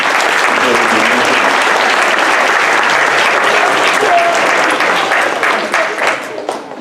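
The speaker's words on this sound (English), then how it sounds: "So give yourselves a round of applause." A large audience gives a full, sustained round of applause that stays loud and dense, with faint voices mixed in, then tapers slightly toward the end.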